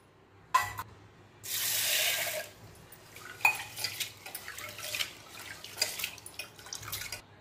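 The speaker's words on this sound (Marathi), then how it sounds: "1 वाटी तुरीची डाळ आहे, स्वच्छ धुवून घ्यायची।" Pigeon pea lentils (toor dal) are washed in a pot, water splashing and rinsing, with clinks of utensils and drips, close by; one burst of running water from a tap.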